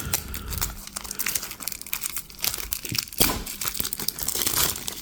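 Plastic shrink wrap being torn and crinkled off The Mind Extreme card game box, a close, irregular run of crackles, rustles and sharp tearing bursts with no talk.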